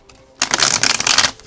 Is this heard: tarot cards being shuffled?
yes